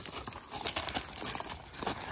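A working draft horse team steps over a wagon tongue, hooves clip-clopping in an irregular series of close, fairly loud thuds over a quiet outdoor background.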